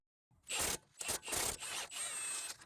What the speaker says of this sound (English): now we'll be able to take the nut off